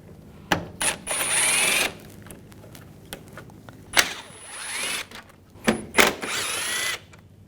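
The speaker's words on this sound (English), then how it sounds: "We're going to remove these screws. Use a T30 socket." Power tool driving out the front bumper cover screws on a 2004–2009 Audi A4 Quattro with a T30 socket, in three separate whirring bursts of a second or so each, close and loud with quiet gaps between.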